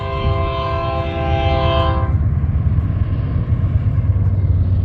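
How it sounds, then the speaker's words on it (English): A train horn blares for about two seconds over the heavy, steady rumble of rail cars rolling past close by in Goffs, California, which continues after the horn stops. "Here comes the train."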